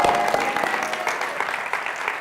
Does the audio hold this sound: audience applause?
yes